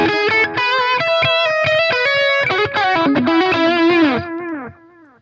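Electric guitar played through a Line 6 Helix analog echo delay patch, loud and distorted, with sustained chords and single notes trailing into repeating echoes before the sound fades out at the end.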